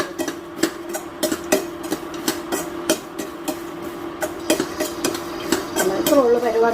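Makhana tossed with chaat masala, turmeric and salt is stirred in a pan with a utensil, giving quick, rhythmic scraping clinks close to the mic, steady throughout, with no talk.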